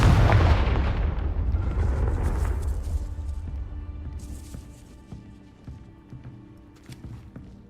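The Confringo fire spell from the Hogwarts Legacy video game blasts as a loud, deep explosion at the start, then rumbles and decays over several seconds into quieter crackles and debris sounds.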